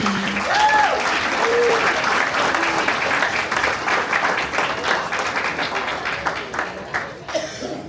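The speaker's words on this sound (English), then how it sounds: "Can we give a round of applause to the sisters of the PLC?" A retirement-party audience applauds the sisters of the PLC with dense, sustained clapping that stays loud throughout and tapers slightly near the end, with a few voices mixed in.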